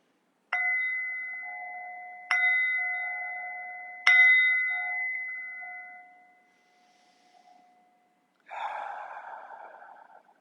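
A meditation bell struck three times to open a T'ai Chi Chih practice, each clear ringing tone decaying slowly and fading out, followed by a softer shimmering ring near the end; close and alone in a quiet room.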